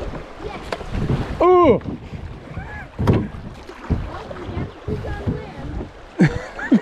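A canoe on the Uwharrie River scrapes and knocks against rocks in a couple of brief, hollow thuds, amid wind and water noise, with short exclamations from paddlers.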